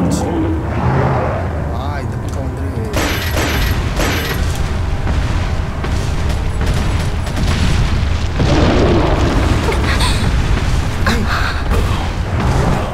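Bomb explosion in Resident Evil 4 booms loudly amid ongoing game noise, with further heavy impacts and clatter following, while a person talks over it.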